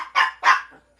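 A pet dog gives two sharp, loud barks close by in a quiet home at night, followed by a softer trailing yip.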